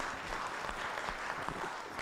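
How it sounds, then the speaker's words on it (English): Audience applause at an annual delegates meeting of a savings cooperative, a brief, moderately distant patter of many hands clapping steadily for a couple of seconds. "We may have to clap for him."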